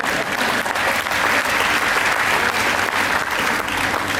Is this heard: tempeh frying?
no